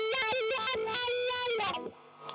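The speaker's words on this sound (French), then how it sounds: "En gros, ça c'est mon son, juste mon son lead quand je veux faire mes gros solos kitschou" Kitschy electric guitar solo through overdrive and distortion pedals, a quick loud run of saturated notes and sustained bends that drops off into a faint tail.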